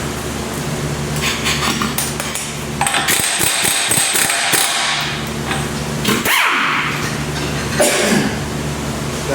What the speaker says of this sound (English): Gotta turn on your torque wrench.